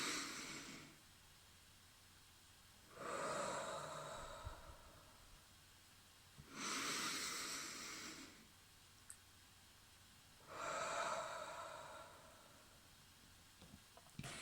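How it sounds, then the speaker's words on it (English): Slow, quiet breaths, in through the nose and out through the mouth, come as three long airy exhales with calm pauses between them. "it's really important that we breathe through the nose and then out through the mouth"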